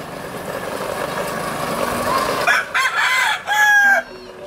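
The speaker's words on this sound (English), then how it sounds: "Have you been enjoying looking at the cockerels?" Roosters crow nearby at Magpupungko Rock Pools, several rising calls in quick succession after a stretch of low background noise, with some clucking around them.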